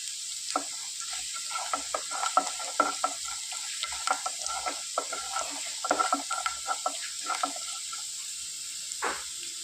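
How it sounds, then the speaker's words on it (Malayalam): Urad dal roasting in hot oil in a pan gives a steady sizzle, broken by frequent irregular scrapes and taps as a spoon stirs it, close and moderately loud with no talk. "ഉഴുന്നൊക്കെ മൂത്തൊന്ന് ഒരു ബ്രൗൺ കളറായി വരണം ആ സമയം വരെ നമുക്കിതൊന്ന് മൂപ്പിച്ചെടുക്കാം"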